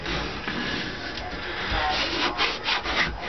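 Cork roadbed for a model railroad being rubbed down by hand, a steady close scraping and rubbing texture that continues throughout.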